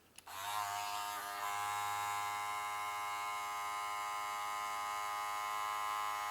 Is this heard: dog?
no